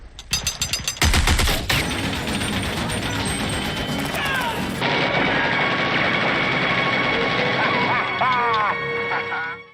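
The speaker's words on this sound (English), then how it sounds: "Hollywood loves the Gatling gun." Rapid Gatling gun fire in a movie scene, loud dense bursts of shots followed by sustained rattling fire with crashes and other film sound mixed in.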